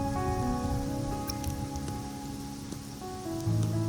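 Steady rain patters in Wuthering Waves, a soft continuous hiss and drip layered under sustained ambient music tones, moderate and even throughout.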